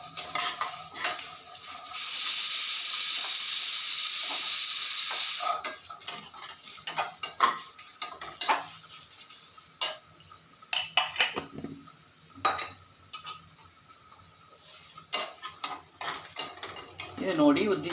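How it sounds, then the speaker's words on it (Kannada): A utensil scrapes and stirs coconut and urad dal dry-roasting in a pan, with irregular metallic scrapes and clinks over a soft sizzle and a stretch of steady hiss early on, close and clear. "ಇದನ್ನು ಹುರಿಯೋಣ ಕೆಂಪಾಗೋ ಹಾಗೆ."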